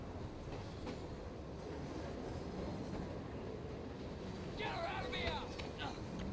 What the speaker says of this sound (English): I love how this train will just kind of go on forever.